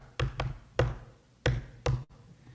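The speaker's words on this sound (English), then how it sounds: "there was a knock on the palace door." Knocking on a palace door: five sharp, loud raps close by, spaced in uneven pairs, with no talking.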